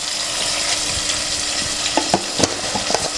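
Onions frying with salt in a pan for kodi charu, a steady close sizzle with a few sharp spoon scrapes and taps toward the end, no speech.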